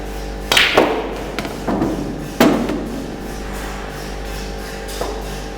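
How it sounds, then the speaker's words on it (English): A billiard cue strikes balls in backhand English shots, giving sharp close clacks followed by softer ball-on-ball knocks and rolling, several hits spaced a second or so apart in a quiet room. "So I'm going to do these shots real quick."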